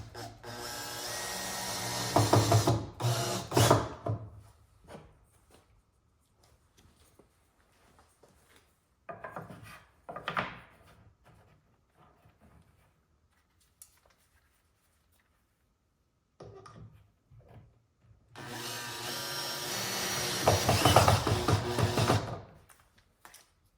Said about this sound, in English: hold pushback resistance as you screw into it